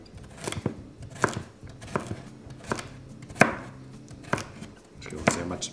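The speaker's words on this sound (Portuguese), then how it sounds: "Vou cortar menorzinho para ficar mais fácil na hora que for" A knife chops vegetables such as carrot and onion into small pieces on a cutting board for fried rice, with sharp, close, fairly regular thuds repeating about every half second.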